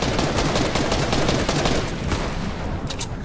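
Dense, rapid gunfire in an online shooter game, loud and continuous over a few seconds with overlapping shots and bursts, heard alone without talk.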